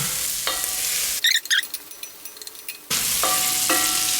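Chicken hearts and gizzards browning in a pan give a steady loud sizzle broken by a short, quieter stretch of stirring scrapes and clinks, then the full sizzle returns.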